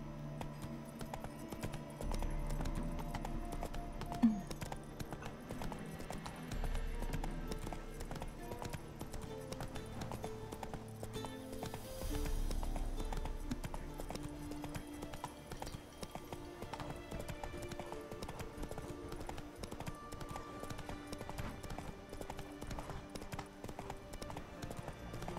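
Hoofbeats of the horse Roach in The Witcher 3, a steady clip-clop trotting along at moderate loudness over a game soundscape, with a short whinny-like burst early on and no talk.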